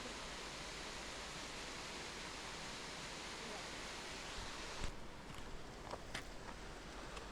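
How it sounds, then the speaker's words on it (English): The upper falls of Whiteoak Canyon in Shenandoah National Park, a waterfall about 86 feet high, produce a steady, even roar of rushing water. A few soft taps and knocks, like footsteps, come over it near the end. "this is the largest waterfall on this hike"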